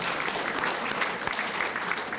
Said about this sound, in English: That's a round of applause for Lieutenant Governor Jacqueline Coleman.